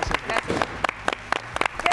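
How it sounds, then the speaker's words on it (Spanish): A studio audience on a television morning show gives a short round of applause, sparse distinct claps spaced irregularly over a couple of seconds at moderate volume. "¿Te podemos dar un aplauso?"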